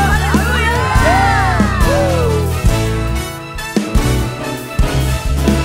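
A church congregation at a worship service shouts and cheers hallelujah together, a loud crowd roar rising over continuous live worship music and singing, with bursts of whoops throughout.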